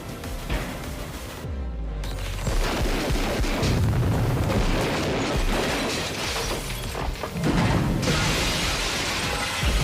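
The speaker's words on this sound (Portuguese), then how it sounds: "Ele atira na vidraça" A gunshot blasts through window glass in the 1988 action film Die Hard, followed by loud crashing, rumbling booms and chaotic bursts of noise that stay dense and forceful throughout.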